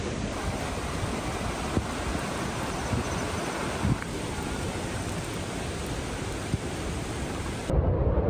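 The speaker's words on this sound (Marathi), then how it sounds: "हा कमाल दिसतोय आणि खतरनाक फ्लो आहे पाण्याचा" Vasudhara waterfall in Bhandardara's Sandan Valley pours down in a loud, unbroken roar of rushing water that holds steady for several seconds before cutting off abruptly.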